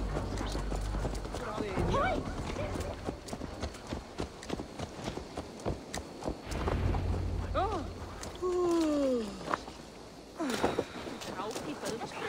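Horse hooves clip-clop in the video game Assassin's Creed Valhalla, a steady trotting beat under game music and spoken dialogue. Brief whooshing and chirping effects are also heard.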